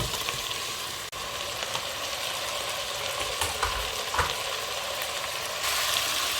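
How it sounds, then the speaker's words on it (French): Vegetables with celery sauté in a hot pan, giving a loud continuous sizzle with occasional stirring scrapes and crackles and no talking. "Alors je fais bien revenir mes légumes"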